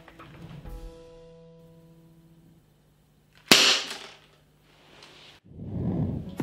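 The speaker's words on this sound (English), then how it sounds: "I've got one more shot to go, and I'm gonna go again for target E." A KWC Model 357 airsoft revolver fires a single sharp, snappy shot partway through, set against quieter handling noise and low hum before and after.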